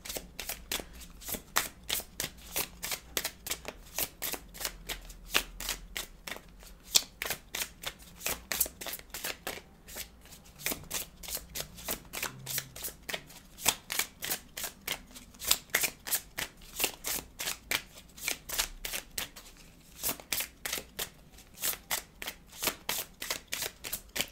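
Tarot cards being shuffled by hand, a long run of rapid, crisp riffling flicks close up, in an even rhythm with brief pauses.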